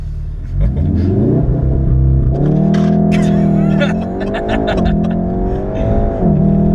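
A Volkswagen Golf R launches hard from standstill toward 60, its engine roaring loud and close as the pitch climbs through each gear, with brief dips at the shifts.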